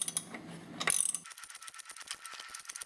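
A 3/8 hex socket turns the power steering pump pulley shaft on a Ford Mustang during a fluid flush, giving a fast series of light ratcheting clicks after a brief louder clatter, close and fairly quiet.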